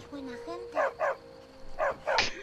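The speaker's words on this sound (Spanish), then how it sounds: "¡Un perro! ¡Es un perro!" A dog barks in Skyrim, a few short barks spaced through the stretch, with soft background game ambience and a faint voice-like tone at the start.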